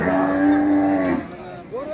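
A black cow moos at a traditional livestock market in Bangladesh, one long, loud, close low call lasting about a second, followed by quieter market background.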